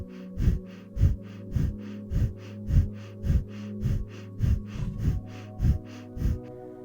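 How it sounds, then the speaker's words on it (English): Breath of Fire in a Kundalini yoga practice: rapid, rhythmic forceful breaths pumped through the nose, about two per second, close and steady without talk. "Now begin Breath of Fire. A rhythmic breath, pumping your navel,"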